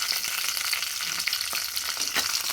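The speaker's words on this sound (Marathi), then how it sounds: "आता चटणीला आपण फोडणी देते" Curry leaves sizzle loudly in hot oil with cumin and mustard seeds, a dense continuous crackle with scattered sharp pops and no voices.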